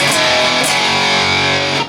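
A distorted electric guitar plays a short chord stab from a riff, ringing loud and close before it is cut off abruptly at the end.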